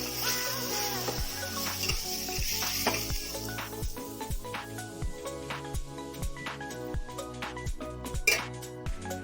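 Chicken curry being stirred and fried in a pan at home for a palak chicken dish, with repeated close metal-on-pan scrapes and clinks in an uneven rhythm over a low sizzle.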